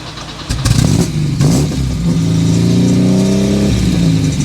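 An Audi 100 Coupé S engine revs close by, with a sharp blip followed by a sustained, rising and falling mechanical drone that runs alone without any talk.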